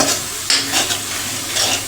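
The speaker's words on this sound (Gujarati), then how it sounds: "આપણે ટમેટા નાખીને પછી વચ્ચે વચ્ચે હલાવતા રહીશું જેથી તળિયે ચોટે ને" Tomatoes fry and sizzle in an oiled pan for a Gujarati methi dana curry, with a spoon scraping and stirring through them in a few close, short strokes over a steady sizzle.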